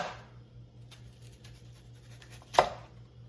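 A knife cuts through an onion on a board in a quiet kitchen, a single crisp chop standing out against near silence.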